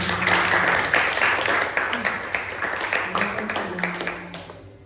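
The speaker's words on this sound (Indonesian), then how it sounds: "Terima kasih, tepuk tangan dulu." An audience claps loudly and densely, and the applause gradually thins and fades toward the end.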